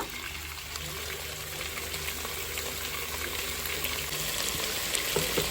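Chicken frying in a pan with tomato and spices for a home-cooked curry, a steady close sizzle and crackle with no pauses, no talk.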